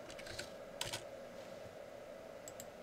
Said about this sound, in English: I'm going to type in ethene.